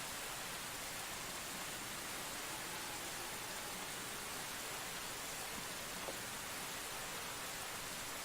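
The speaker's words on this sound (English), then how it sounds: "Oh, it's raining." Rain falling in the Tales of Legendia video game: a steady, even hiss of downpour that fills the whole stretch without pause, loud and constant, with no voices over it.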